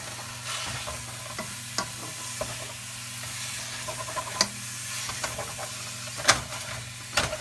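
Sausage for mushroom filling fries over medium heat as a spatula breaks it up, a soft steady sizzle under a low hum, punctuated by sharp taps and scrapes against the pan.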